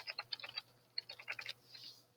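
Quick clusters of keystrokes clatter on a computer keyboard, close and crisp, in two short bursts separated by a pause, over a faint low hum.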